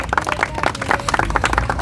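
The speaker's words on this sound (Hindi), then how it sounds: "इनके लिए पहले ताली बजाई जाए।" An audience at a public gathering in Delhi claps together, a dense burst of hand claps that stays loud and close throughout.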